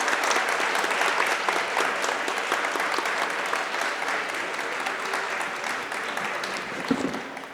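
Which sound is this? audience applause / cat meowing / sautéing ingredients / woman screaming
audience applause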